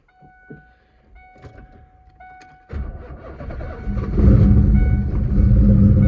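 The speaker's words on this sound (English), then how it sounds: "Let's give it a cold start." Chimes and clicks precede a starter cranking, then an untuned turbo LQ4 car engine catches and roars up loudly, settling into a rough, heavy idle.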